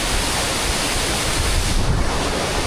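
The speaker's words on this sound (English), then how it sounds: "Oh, it's windy here." Strong wind blows steadily by a tall waterfall in the Scottish Highlands, a dense roar of wind buffeting and rushing water that stays loud and unbroken throughout, with no voices.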